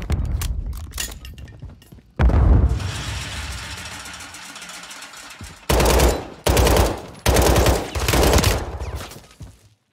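Automatic weapon fire in the video game Call of Duty on Rebirth Island, with loud rapid bursts of gunshots in several separate volleys, some short and some sustained, close and punchy with mechanical clinks between.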